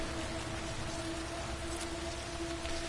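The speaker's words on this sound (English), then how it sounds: "When is it going to stop raining so I can actually play the game?" Steady rain falls in the game Death Stranding, a continuous close hiss of drops on surfaces with a faint tonal hum beneath.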